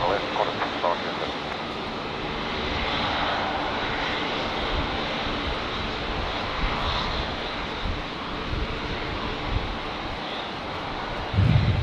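Airliner engines roar steadily through a windy takeoff on runway 19 at Brisbane Airport, Australia, a broad sustained rumble with gusty wind noise across the microphone and faint radio chatter in the background.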